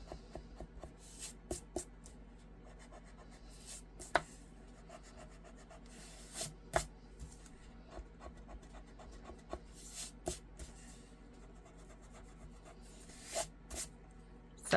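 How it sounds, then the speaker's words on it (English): Pencil score-line marks being erased from card stock with quick, soft, scratchy rubbing strokes in short bursts, close and quiet, with no talking. "So now you can go in and you can erase your marks."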